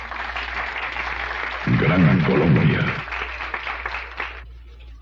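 Audience applause for a live cumbia dance orchestra in a radio broadcast setting, a dense wash of clapping running throughout, briefly swelling under a burst of cheering or music, with a voice speaking over it near the end.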